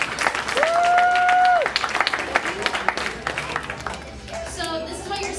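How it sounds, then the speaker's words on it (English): Applause from an audience at a volunteer meal-packing event rises briefly alongside a sustained whistle-like tone, then thins out as a speaker talks over scattered claps. "So give yourself a round of applause."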